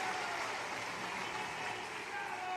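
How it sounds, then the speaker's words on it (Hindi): Steady applause from a crowd welcoming a political party leader at a rally, a dense, even wash of clapping throughout, heard at a distance. "दोनों हाथ उठा के ताली बजा के स्वागत कीजिए"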